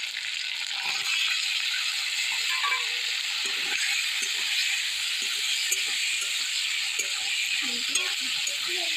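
Tomatoes hiss and sizzle steadily in a hot frying pan over ginger and cumin paste, a close, continuous crackle with faint scrapes and knocks of stirring.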